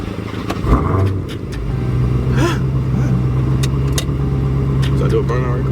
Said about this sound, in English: So I do a burnout right quick.